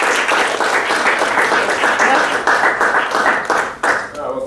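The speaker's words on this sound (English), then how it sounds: "let's give a round of applause" An audience at a summer keynote event applauds, with dense, continuous clapping at moderate volume that thins out at the very end.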